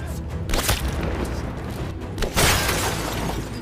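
Gunfire rings out in a World War II film scene as German soldiers are ambushed near a snowy forest: a few sharp, loud bursts stand out over a dense, noisy background.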